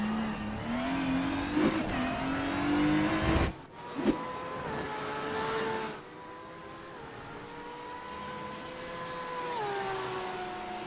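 GT3 race car engine lapping Circuit of the Americas, heard from inside the car: a loud high-pitched engine howl rising and falling through gear changes, with brief sharp bursts as it shifts and then settles into a steady drone.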